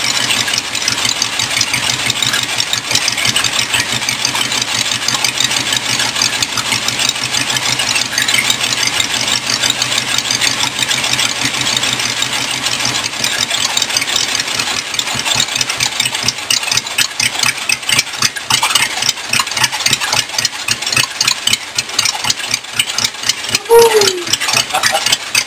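A rat rod roadster engine idles steadily and close up, a loud, even rhythmic chug that runs without a break for the whole stretch.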